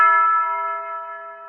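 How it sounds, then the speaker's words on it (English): A single bell strikes once, its clear metallic tone ringing out and slowly decaying over more than a second, resonant and alone without talk. "Well, there's the bell."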